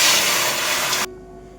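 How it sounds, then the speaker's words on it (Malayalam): Milk is poured into a pan on a gas stove for palada payasam, a loud steady rushing pour lasting about a second before it cuts off abruptly, leaving near quiet. "അതിലേക്ക് നമുക്ക് പാലൊന്ന് ഒഴിച്ചു കൊടുക്കാം"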